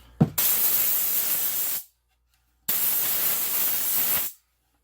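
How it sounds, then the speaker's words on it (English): Two long bursts of loud, steady hiss from an air compressor blowing dust off a carved wooden sign, each lasting over a second, separated by a short silence, close to the microphone. "I use my air compressor to just blow off all that stuff that I just kind of got off."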